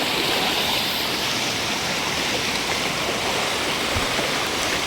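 Rushing stream water pours in a steady, dense roar, loud and close, with no voices over it.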